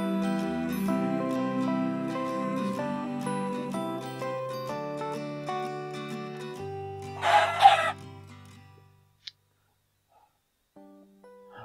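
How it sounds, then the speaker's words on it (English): Chickens cluck and crow in a video game, with repeated tonal fowl calls over a game soundscape, louder near the middle before fading to near silence with a few faint sounds. "oh, hearing the chickens."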